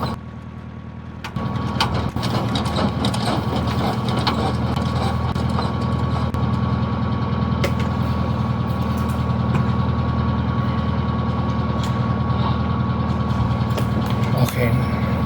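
An aircraft engine in Microsoft Flight Simulator 2020 cranks up after a short quiet start, then settles into a loud, steady, droning hum that runs unbroken to the end.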